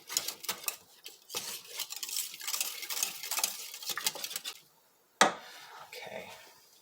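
Cheese sauce stirred constantly in a pan over low heat, a spoon scraping and clinking in quick uneven strokes, close and fairly quiet, with a short pause before the stirring resumes.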